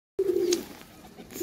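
Pigeons in a loft giving one clear, close low coo that lasts under half a second, followed by faint rustling and quieter sounds.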